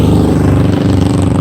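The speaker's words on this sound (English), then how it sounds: "There's so many of these loud cars and stuff." Loud traffic roars close by outdoors, a continuous rumbling wash of car engines and tyres with no pauses or voices.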